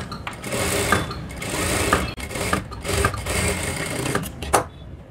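Electric sewing machine stitching a high neck blouse, running loud and close in fast continuous bursts with brief pauses between runs, no talking.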